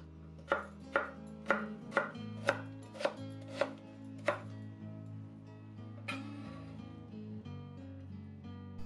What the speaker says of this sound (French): les crudités avec la carotte que l'on coupe en julienne. Faire la même chose avec le concombre.